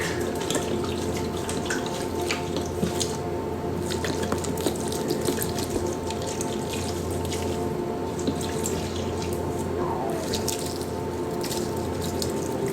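Liquid pours steadily into a tub of laundry powder suds, a continuous running-water wash with soft drips, close and alone without talk.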